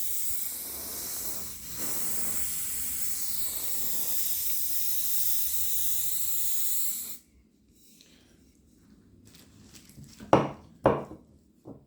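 Continuous hiss of an aerosol spray can painting model trees for about seven seconds, followed by quiet rustling and a few soft handling knocks.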